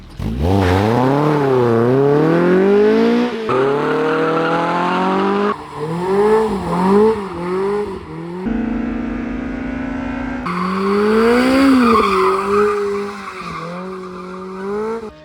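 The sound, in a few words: car driving with tire squeal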